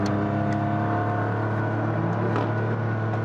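Steady engine drone from inside a Nissan GT-R under acceleration, a low continuous rumble with layered harmonics holding even and close for several seconds, no speech.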